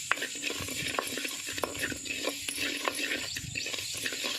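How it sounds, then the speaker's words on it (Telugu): Coriander seeds roast dry in a pan, giving a dense, steady rustling hiss with faint frequent clicks and scrapes of stirring, close and moderately quiet, with no voices. "మూడు చెంచాల ధనియాలు వేసుకోవాలి ఇంచి వేయించుకోవాలి"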